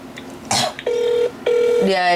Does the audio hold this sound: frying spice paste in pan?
no